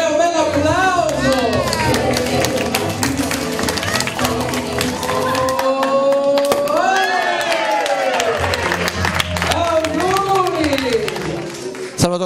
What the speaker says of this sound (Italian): 1, 2, 3, un bel applauso.